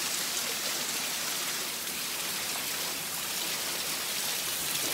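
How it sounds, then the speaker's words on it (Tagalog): Water rushes steadily down the Fung Nei mountain stream, a loud, even hiss of churning flow that stays constant and close throughout, no talk. "lagas-las ng tubig"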